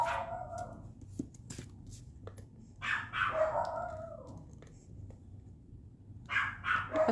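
Several dogs bark indoors in short, sharp bursts, some yipping and whimpering, with quieter pauses between the outbursts.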